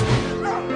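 A dog gives a single short bark-like yip with a whimpering tone, close and clear, lasting under a second.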